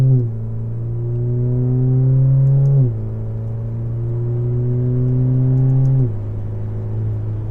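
A 2.0T four-cylinder engine in an Alfa Romeo Giulia fitted with a catless downpipe pulls loudly and up close, its note climbing through two smooth gear changes with a deep, buzzy drone.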